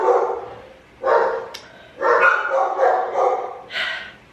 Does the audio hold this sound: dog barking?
yes